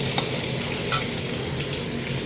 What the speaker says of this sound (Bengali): এইদিকে বসিয়ে দিয়েছি লাউর খোসা ভাজা।